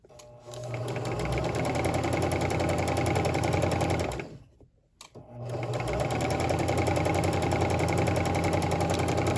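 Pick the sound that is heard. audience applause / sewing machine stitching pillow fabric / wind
sewing machine stitching pillow fabric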